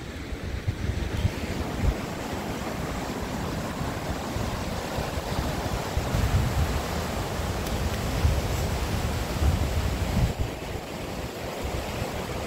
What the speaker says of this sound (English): There's like a little waterfall flowing right across the river.